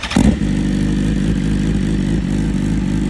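Hyundai SBR motorcycle engine running close and loud, a steady throbbing idle-like drone that follows a brief louder burst at the start and holds evenly to the end.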